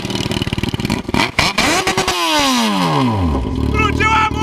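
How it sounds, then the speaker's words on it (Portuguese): A Yamaha XJ6 motorcycle with a cut exhaust holding a firecracker cranks with rapid clatter, catches, then roars loudly and revs down, its pitch sweeping low before settling into a raw, close idle. "Agora, vamos ligar a moto e vamos ver o que vai acontecer."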